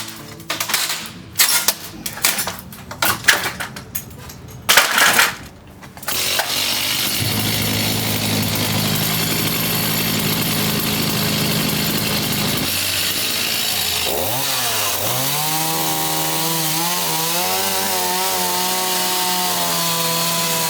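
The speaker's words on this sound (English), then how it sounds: "The easiest way to do this is by slicing through with a chainsaw." Chainsaw slicing through the wooden frame of an old house, starting with a few rough bursts, then holding a steady, loud cutting drone and shifting in pitch as the chain bites deeper.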